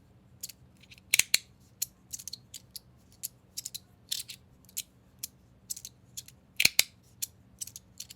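Pyra fidget slider by TwoEDC, worked with no sound deadeners fitted, giving close, sharp metallic clicks and snaps in an uneven rhythm. A few louder clacks stand out over a quiet background.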